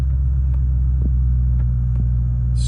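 A 2023 Ford Raptor 4x4 crew cab idles steadily in sport mode with a loud, low, even rumble and a few faint clicks, no voices.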